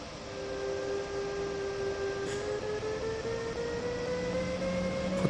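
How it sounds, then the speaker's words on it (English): A train rumbles steadily in the video game Train Sim World 2020, a continuous mechanical drone with a rising whine, heard alone without talking. "Thought that was our train starting up for a second."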